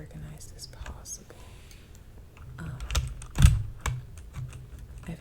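Keycaps being pried off and swapped on a new computer keyboard: scattered small plastic clicks and taps, with a sharper cluster of snaps near the end, heard up close under soft whispering.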